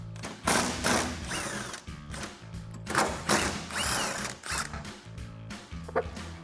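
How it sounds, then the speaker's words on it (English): A ratchet fitted with a 13mm socket loosens bolts on a Jeep Wrangler JK tailgate, giving bursts of rapid clicking in repeated strokes with short pauses between, close to the microphone. "So I'm gonna start by removing these two 13mm bolts."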